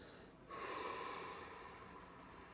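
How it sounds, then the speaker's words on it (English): A slow, steady exhale into a mouthpiece during a close-up breathing-treatment roleplay, starting abruptly and holding as a soft airy hiss for about two seconds before easing slightly. "So I'm gonna exhale again."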